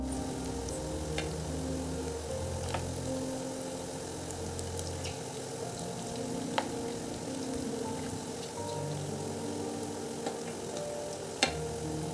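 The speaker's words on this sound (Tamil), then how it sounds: "அதை எண்ணெயில் போட்டு நல்லா பொரிச்சு எடுத்துருங்க" Bread balls for bread gulab jamun deep-fry in hot oil, giving a steady, moderate sizzle and bubbling hiss with a few sharp ticks and pops over a low background hum.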